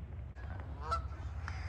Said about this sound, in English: We got some flying geese.